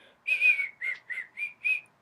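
Someone whistles a short tune of five clear notes from Snow White, the first held longer, with brief gaps between them, alone and fairly close.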